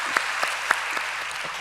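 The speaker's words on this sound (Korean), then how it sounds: "우리 한번 박수로 웰컴해 주시기 바랍니다" A church congregation claps to welcome Mrs. Kendall, a brief, moderate round of applause with a few distinct sharp claps standing out over the steady patter.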